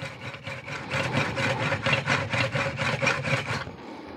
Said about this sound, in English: that is a pump drill